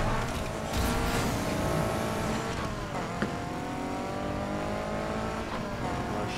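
Engine noise from a car in the racing video game Need for Speed Heat builds steadily under pressure, with rising harmonic whine and a constant roar for several seconds over game music, with no voice on top.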